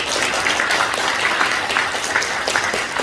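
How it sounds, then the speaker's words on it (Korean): An audience applauds steadily at a seminar, dense sustained clapping with no break for about three seconds. "박수 한번 부탁드리겠습니다."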